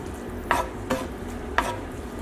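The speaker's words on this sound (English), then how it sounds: "Mix that together." Ingredients for a ribeye steak burrito bowl with pico de gallo and rice are stirred and mixed together, giving a few soft scraping strokes over a low continuous background, close and with no speech.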